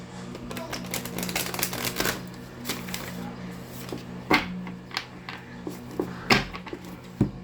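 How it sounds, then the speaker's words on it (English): Tarot cards riffle and slap together in quick bursts, a dry papery shuffling close by, with soft taps and a pause between rounds. "Let me get you some good shuffles in"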